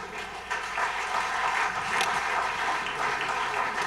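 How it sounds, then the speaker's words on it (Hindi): An audience applauds a singer at a ghazal evening in New Jersey, a steady dense clapping from a crowd, moderately loud and continuous without talk. "एक बार फिर तालियां बनती हैं"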